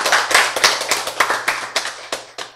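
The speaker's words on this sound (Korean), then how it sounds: "이때는 박수 쳐야지." Listeners at a Bible lecture clap: about a dozen sharp, distinct hand claps in an uneven rhythm, close and fairly loud over a faint steady hum, thinning out toward the end.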